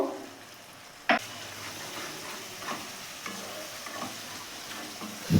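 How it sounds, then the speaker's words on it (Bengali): Soft, steady sizzle of spice paste with chilli and cumin powder and a little water cooking in a wok, with a few sharp scrapes and knocks of a spatula stirring it. "অল্প জল দিয়ে মশলাটা ভালো করে কষবো"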